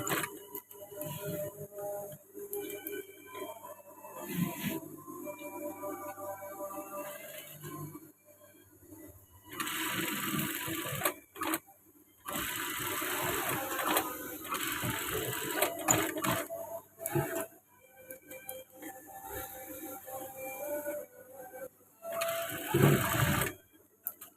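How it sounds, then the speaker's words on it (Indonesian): Sewing machine stitching the upper petal section of a women's uniform garment, bursts of fast rhythmic mechanical whirring that start and stop repeatedly, close and fairly loud, with no talk. "Ini kita jahit bagian atasnya"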